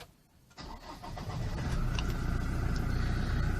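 A 2016 Toyota Innova with push-button start cranks after a short quiet pause, then settles into a steady, close idle that hums on evenly to the end, with no voices.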